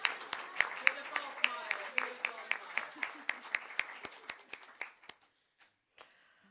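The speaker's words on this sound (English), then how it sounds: "you can clap again" An audience at a live music session claps in a steady, even rhythm, the sharp claps close and fairly quiet, tapering off to a few scattered claps and then silence.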